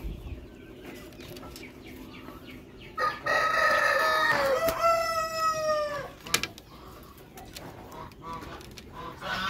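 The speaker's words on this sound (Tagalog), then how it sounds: "Ayan yung rooster natin, Splash." A rooster in a farm breeding pen crows once, loud and drawn out at mid-distance, with soft clucking and faint background noise around it.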